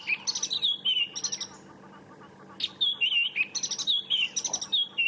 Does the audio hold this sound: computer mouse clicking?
no